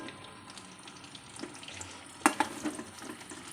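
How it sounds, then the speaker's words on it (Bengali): Potato pieces fry in oil in a pan for a home-style biryani, giving a low, steady sizzle with scattered pops and a sharper clatter partway through, with no talking. "প্রায় আলুটা ভাজা হয়ে গেছে বেশি লাল করবো না এইভাবেই ভাজবো"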